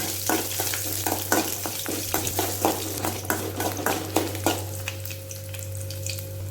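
Garlic sizzles steadily in oil in a pan while a utensil scrapes and stirs in a quick, uneven rhythm, close up, with a constant hum underneath.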